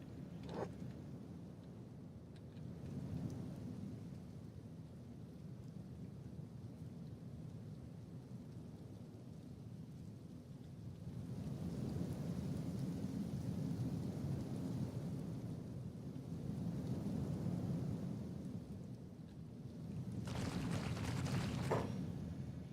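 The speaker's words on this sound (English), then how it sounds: "Acid rain." Acid rain falls steadily with rolling thunder in the video game Kenshi, a dense low rumble and hiss that swells in waves, with a sharper crackling burst of rain or thunder near the end, no voices present.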